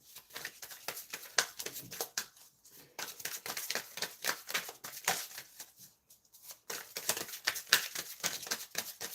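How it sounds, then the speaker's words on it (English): Tarot cards being shuffled in repeated riffling bursts of quick crisp clicks, with brief pauses between passes, close and moderately quiet. "I need to shuffle these cards better"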